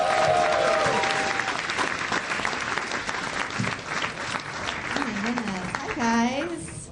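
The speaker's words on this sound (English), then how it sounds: "Big round of applause for Sarah Tolamash" Comedy club audience applauds and cheers as a comedian is welcomed to the stage at a live show, a sustained wash of clapping with whoops and voices mixed in, easing off toward the end.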